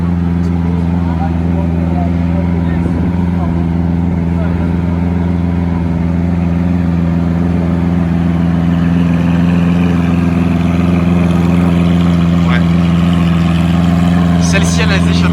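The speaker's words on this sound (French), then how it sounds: "Aventador LP704 échappement Capristo à Monaco." A Lamborghini Aventador LP704 fitted with a Capristo exhaust idles steadily in Monaco, its deep, even engine drone holding throughout with a faint hum of voices and street activity around it.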